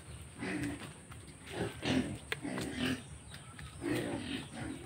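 Farm pigs grunt and snort repeatedly in rough bursts at close range, a restless, uneven chorus with a faint voice in the background.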